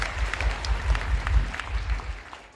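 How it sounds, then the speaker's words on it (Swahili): Church congregation applauding a single mother, a dense run of hand claps at moderate distance with a faint crowd murmur underneath, fading slightly toward the end. "Pigieni wa mama makofi."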